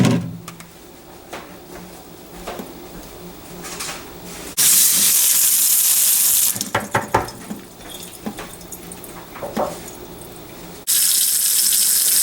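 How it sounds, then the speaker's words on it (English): Tap water gushes into a kitchen sink as mushrooms are rinsed, in two loud steady bursts separated by a stretch of clattering and handling sounds, with no voices. "you always want to make sure to rinse these off"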